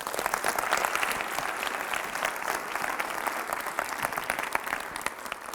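An audience at a high school speaking session applauds steadily, a dense wash of many hands clapping at an even level throughout with no voices over it.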